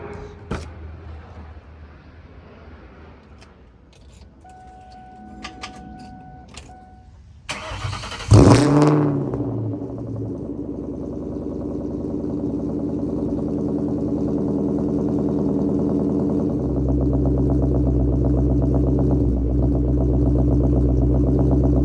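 A 1999 Ford Mustang Cobra with a Kenne Bell supercharger cranks and catches with a loud burst on a cold start, then settles into a deep, rumbling idle that stays steady and loud.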